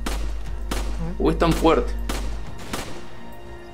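A few sharp gunshots crack out at irregular intervals in Resident Evil 5 while someone talks over them.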